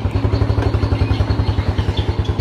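A motorcycle with a fuel pump pressure fault, kick-started and now running, its single-cylinder engine idling close by in a steady, even chug with a rhythmic pulse.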